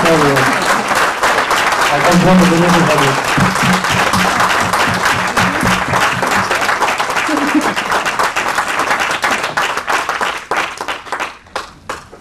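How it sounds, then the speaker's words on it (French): Loud, sustained applause from an audience at a press conference with comic artists Stéphanie Hans and Thierry Mornet, dense clapping throughout that thins into scattered claps near the end, with someone speaking over its start. "je vous propose d'applaudir très très fort Thierry et Stéphanie"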